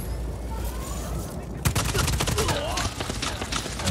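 Rapid gunfire in Just Cause 4, steady rattling bursts of automatic shots starting partway through after a quieter ambient stretch, mid-distance and fairly loud over game background noise.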